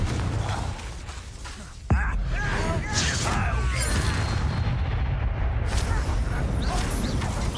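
A Confringo fire spell in the Hogwarts Legacy video game erupts with a sudden booming blast, followed by crackling, rumbling game effects and a dense wash of background action noise.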